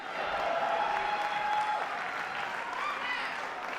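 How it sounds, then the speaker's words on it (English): An awards-show audience applauds steadily and loudly throughout, a dense wash of clapping from a large crowd with a faint voice or whoop rising through it. "give yourselves a round of applause"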